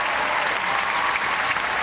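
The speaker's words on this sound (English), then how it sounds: "And the crowd goes wild." A packed arena crowd at a U.S. figure skating championship ice dance event in Wichita, Kansas, bursts into dense, continuous applause and cheering, loud and unbroken throughout.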